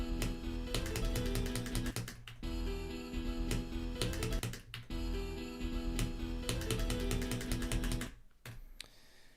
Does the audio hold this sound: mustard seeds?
no